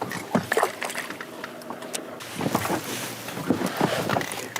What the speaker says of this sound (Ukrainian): моторчик в нього пітнашка, тому йде дуже-дуже гарно